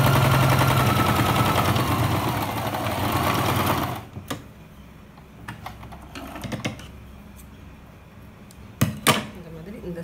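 A sewing machine stitching a pillow cover whirs steadily and close for about four seconds, then stops, leaving scattered soft clicks and handling noises.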